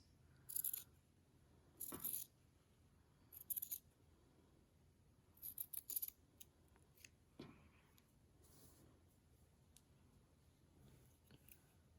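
Scissors snip through the hem of a shirt in a few short bursts of cutting, close and crisp, with quiet pauses between; no one talks.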